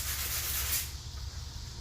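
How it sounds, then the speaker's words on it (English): Hand sanding cured fiberglass resin, a close, soft gritty rubbing hiss in a single stroke that fades into quieter scratching. "When you get it like that, it's a lot easier to hand sand it."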